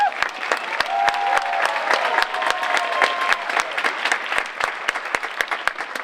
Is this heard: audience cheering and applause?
yes